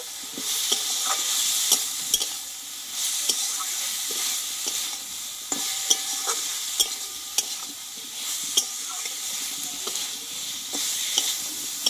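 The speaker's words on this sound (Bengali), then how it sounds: "এইবার এখানে কষে রাখা সোয়াবিন আর আলুটা ঢেলে দেবো। এই মশলার সঙ্গে ভালোভাবে একটু কষিয়ে নেব।" Soybean and potato fry in spice masala in a pan, a constant close sizzle broken by frequent sharp scrapes and clicks of a spoon stirring against the pan, with no talking.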